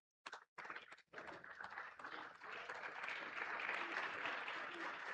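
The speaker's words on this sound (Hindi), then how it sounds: "कृपया जोरदार तालियों से स्वागत कीजिए" An audience at an Indian railway award ceremony applauds as shields are presented to general managers. A few scattered claps come first, then fuller clapping swells and holds steady, moderately distant and fairly soft.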